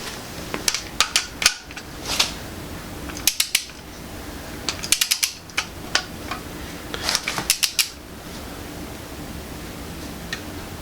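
A torque wrench clicks sharply and repeatedly while LS 5.3L cylinder head bolts on 862 heads are tightened to 22 foot-pounds. Bursts of metallic clicks and ratchet clatter come in clusters with short pauses between bolts, close by and without talk.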